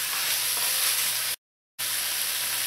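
Salted pigtails sautéing in a pot give off a steady, even sizzle, with a short silent gap partway through.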